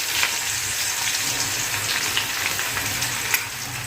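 Green chillies, curry leaves and garlic frying in hot oil: a loud, steady sizzle with crackling spits throughout and a sharper pop near the end, close and uninterrupted, without talking.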